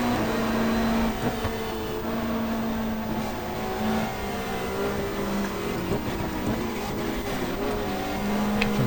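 A BMW race car at a 1994 GTR2 race at Pukekohe roars past, its engine drone steady and loud with pitch shifts as revs rise and fall, under a constant mechanical roar.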